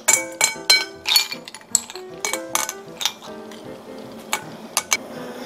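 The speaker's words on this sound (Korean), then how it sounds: "얼음 넣어드리겠습니다." Ice cubes dropped one after another into a bowl of jjolmyeon, a string of sharp clinks and knocks against the dish that grow sparser and quieter toward the end.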